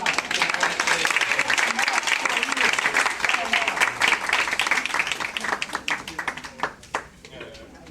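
A conference audience gives presenters a big round of applause, dense clapping that holds strong, then thins into scattered claps and fades near the end.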